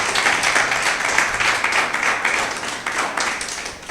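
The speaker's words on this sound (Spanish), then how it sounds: "¿Por qué no le das un aplauso a Jesús por cada servidor y cada servidora en esta casa?" Steady applause and clapping from a church congregation, dense and continuous throughout with slight swells, no talking over it.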